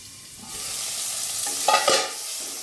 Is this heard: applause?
no